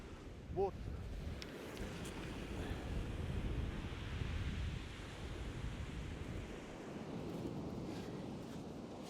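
Steady wind gusting across a shingle beach at Shoreham during whiting fishing, buffeting the microphone in a constant low roar with surf rumbling underneath.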